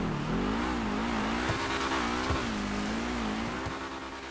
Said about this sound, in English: You can hear that I'm just constantly on and off the throttle.